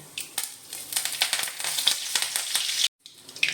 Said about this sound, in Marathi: आपण आता तेलामध्ये टाकूया मोहरी जिरे आणि कढीपत्ता